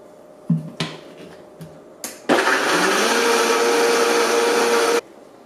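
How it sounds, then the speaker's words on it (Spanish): A blender whirs loudly and steadily for about three seconds, blending a vegan pumpkin Alfredo-style sauce with a garlic clove, after a few sharp clicks and knocks as the jar is set and the lid closed. "Y vamos a proceder a licuarlo."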